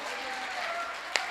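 Audience applause at a Hindi poetry gathering celebrating a poet's birthday, a brief, fairly faint wash of many hands clapping at a distance, with one sharper clap near the end.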